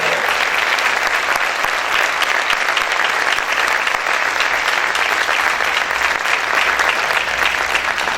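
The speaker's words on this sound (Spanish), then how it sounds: "Los aplausos para el Señor, déselo fuerte." Sustained, steady applause from a church congregation, a thick wash of many hands clapping at even loudness throughout, with no voices standing out.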